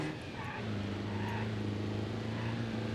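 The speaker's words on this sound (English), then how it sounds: "Listen to that claggy diesel." A base-model diesel car engine in the BeamNG.Drive driving game on the Nürburgring, a steady, clattery drone held close and loud with no pause across the stretch, no speech over it.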